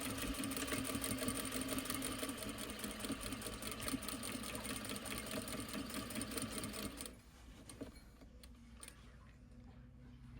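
A sewing machine stitching the open edge of a fabric bag, a fast steady mechanical whir and rattle that runs continuously and close, then stops near the end, leaving faint clicks.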